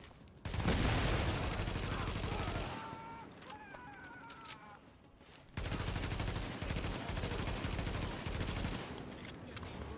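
Sustained automatic fire from a G36 assault rifle in The Division on hard difficulty, with loud dense bursts in the opening seconds, a brief lull carrying other game sounds, then heavy rapid fire resuming for the rest.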